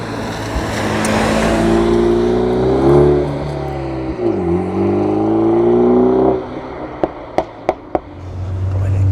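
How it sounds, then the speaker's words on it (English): A Morgan Plus Four engine revs and drones loudly, then drops off as a short series of about four sharp exhaust pops on overrun cracks out in quick succession. "you come off the throttle and it just goes pop, pop, pop, pop, pop, pop"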